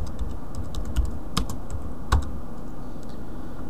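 Someone types a folder name on a computer keyboard, producing a quick run of crisp, close key clicks in an uneven rhythm with a couple of heavier strokes, and no talking.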